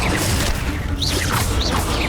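Bombarda blasting spell exploding in Hogwarts Legacy on Switch: a loud, dense rush of crashing blasts and mechanical clatter, with swooping whoosh tones sweeping through.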